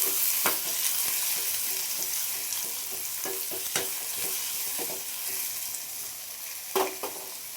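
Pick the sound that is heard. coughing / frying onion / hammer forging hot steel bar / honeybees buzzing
frying onion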